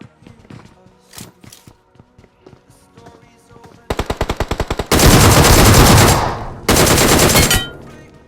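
Gunfire from the mobile battle royale game BGMI (Battlegrounds Mobile India) in fusion mode, with an AWM sniper in play: a rapid burst of about ten sharp shots, then two long, loud sustained volleys of automatic fire following lighter game sounds.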